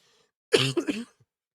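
A single rough throat clearing that breaks into a short cough, close and loud, then silence.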